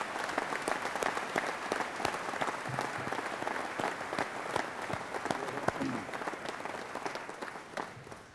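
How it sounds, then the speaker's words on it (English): A crowd at an awards dinner claps continuously and evenly throughout, a sustained wash of many hands that thins slightly at the very end, with no talking on top. "We'd like to give all of our nominees and award winners one last round of applause."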